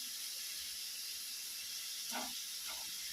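Prawns sautéing in a pan for biryani give a steady, faint sizzling hiss that runs throughout, with a couple of small crackles rising briefly over it.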